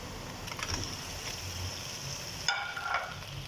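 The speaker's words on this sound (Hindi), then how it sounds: "तकरीबन 5 से 6 मिनट तक हम कीमे को अच्छी तरह से भून लेंगे" Minced meat (keema) frying with ginger-garlic paste in a pan, a quiet continuous sizzle with light scraping and a brief clatter near the end.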